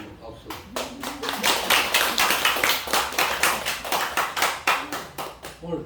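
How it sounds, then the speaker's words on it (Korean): Members of a Korean church congregation clap in unison during a Sunday service, a steady rhythmic beat of sharp claps building slightly and holding, with some voices underneath. "한번 박수."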